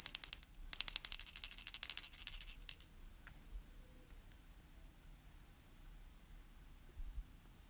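A bicycle-style bell rings in a quick, bright run of dings for about three seconds, then stops abruptly, leaving near silence with faint low rumbles.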